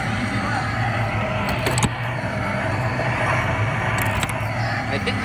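An arcade racing game car stuck in first gear holds a steady, droning engine rev with no gear changes. A few faint clicks sit over a continuous moderate roar.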